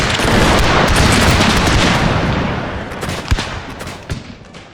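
Musket volleys in a Thirty Years' War battle in a Total War game, a loud dense crackle of many shots blending into a roar, then thinning into scattered distant pops and booms.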